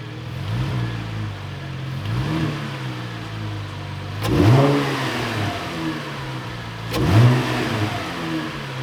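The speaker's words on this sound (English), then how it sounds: "we can now start the car to ensure that everything is connected properly and listen to that" V6 LGX engine in a 2016-2020 Camaro fitted with a cold air intake, idling with repeated blips of the throttle, two sharper revs standing out, heard nearby.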